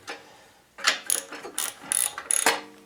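A ratchet wrench clicks in short bursts while removing a retainer screw on a Coleman generator, several close, crisp ratcheting runs separated by brief pauses.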